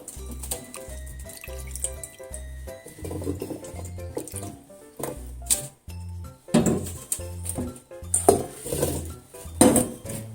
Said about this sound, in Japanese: じゃあ鍋に芋を入れていきます